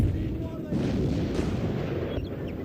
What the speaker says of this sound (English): Some of our cannons are firing, I believe.